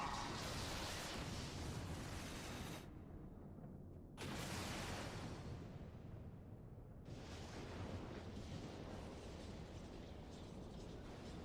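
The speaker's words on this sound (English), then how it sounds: "That's a big explosion." A massive Ultima explosion in Final Fantasy XIV roars as dense, sustained blasts of broadband rumble, with brief drops between surges, loud and without talk.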